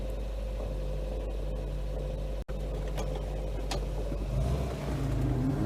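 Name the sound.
Volvo 122 Amazon estate car engine, reversing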